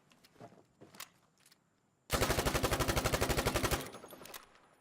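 Submachine gun in Battlefield V practice range firing one sustained automatic burst of rapid, evenly spaced shots, loud and close, after a few faint clicks and handling noises.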